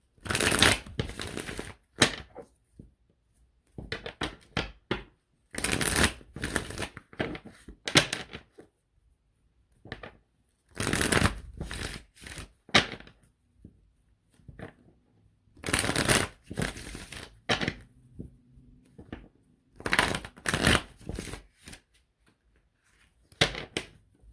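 Tarot cards are shuffled by hand in five separate bursts, crisp riffling and slapping close up, separated by short quiet pauses.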